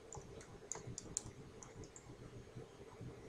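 Quiet computer keyboard typing during spreadsheet data entry, a few soft, irregular key clicks spread over a few seconds against faint room noise, with no voices.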